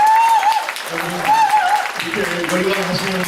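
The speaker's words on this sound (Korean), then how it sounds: "다시 한번 뜨거운 박수 부탁드리겠습니다." Audience applause at a political lecture by a lawmaker in Jungnang-gu, Seoul, clapping running under a loud voice speaking over a microphone.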